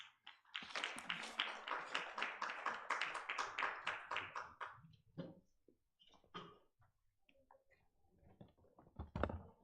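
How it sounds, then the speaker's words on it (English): An audience at a summit claps in a steady round of applause lasting several seconds, then thins out into scattered claps, a few taps and shuffles in a quiet hall. "May we give him a round of applause as he ascends the stage."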